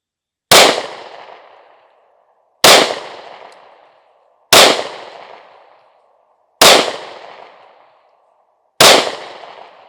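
Five sharp pistol shots from a Smith & Wesson Shield Plus fired at targets, evenly spaced about two seconds apart, each a loud, close crack with a short ringing decay, with silence between.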